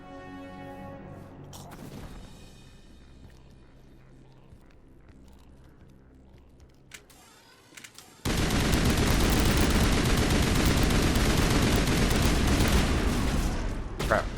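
Combat in the video game Mass Effect 3: quieter game sounds and tonal effects at first, then a sudden loud, continuous stretch of rapid gunfire filling the second half, dense and close.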